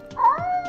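A kitten in the video game Order 13 gives a single short, close meow that rises and falls, heard alone without talk.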